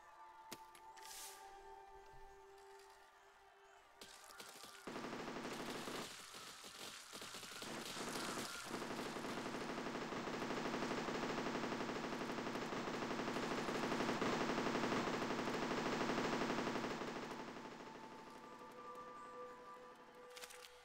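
A machine gun fires in the physics building game Besiege, beginning after a few seconds of clanking. Rapid, steady automatic bursts then build into a loud, sustained rattle that swells and slowly fades toward the end, with no talking.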